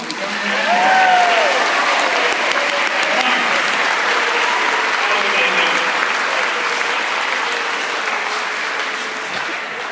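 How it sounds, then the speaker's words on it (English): Sustained applause from a large crowd fills the room, steady and loud throughout, with a few voices and whistles mixed in. "give Chris a round of applause"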